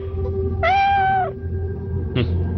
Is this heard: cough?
no